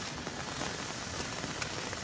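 Steady rain falls over a road in Onitsha, a dense even hiss with a few louder drops, continuous and alone with no voices.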